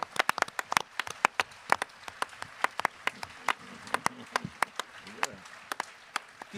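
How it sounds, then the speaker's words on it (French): Scattered, rhythmic clapping from the audience at a national eloquence contest, honouring two speech contest candidates, with distinct individual claps close by and continuing steadily throughout. "On peut remercier avec un tonnerre d'applaudissements"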